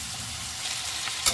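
Onions browning in a pan for an egg curry crackle in a steady close sizzle, ending with a brief sharp clink of a utensil.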